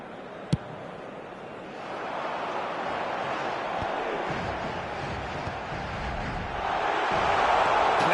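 Stadium crowd noise from the EA Sports FC football video game, a steady broad roar that swells louder toward the end, with a sharp click near the start.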